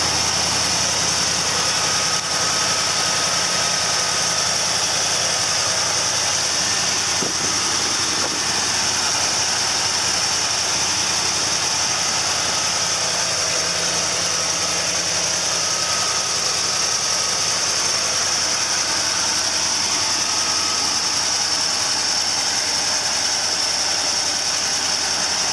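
A car engine idles under the open hood, a steady, even mechanical hum with a faint ticking rattle, continuous and close, with no talking.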